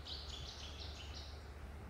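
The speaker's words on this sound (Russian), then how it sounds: "Птички так чирикают." Birds chirp in a jungle-like wooded spot beside a lake and a rushing cold mountain river in Italy, a steady run of faint high twittering calls over a low constant rumble of water, with no talk.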